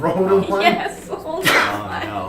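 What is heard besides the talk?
sneeze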